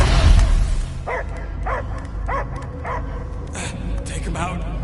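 Dog barks and yips in the Guardians of the Galaxy video game, a run of four or five evenly spaced barks at moderate volume, with more barking and whimpering under a low rumbling game soundscape.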